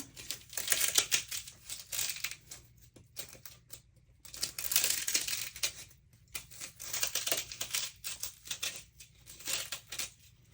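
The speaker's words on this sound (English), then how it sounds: "I'm going to have to kind of cut, and yes, I'm just using a pair of scissors" Close, crunchy squeaking and crinkling in irregular bursts as scissors snip through styrofoam, with short pauses between strokes.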